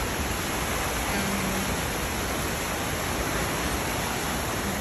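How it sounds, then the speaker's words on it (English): A steady, dense roar of rushing water from a waterfall in Paxton Central Park close by, unbroken and loud throughout. "I bet you the waterfall is over there."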